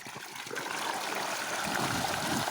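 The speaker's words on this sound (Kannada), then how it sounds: "ನಮ್ಮ ಬೋರ್ವೆಲ್ಲು ಹತ್ತು ಸೆಕೆಂಡ್ಗೆ ಇಪ್ಪತ್ತು ಲೀಟ್ರ್ ನೀರು ತೆಗೆಯುತ್ತೆ" Water gushing steadily from a borewell pump outlet, a continuous broadband rush and splash heard close up with no talk.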